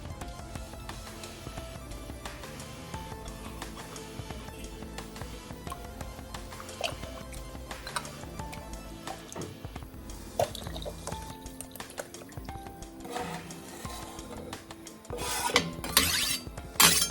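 Fresh homemade stock is strained among clinking pots and utensils, with liquid dripping and pouring and steady kitchen clatter throughout, growing louder toward the end.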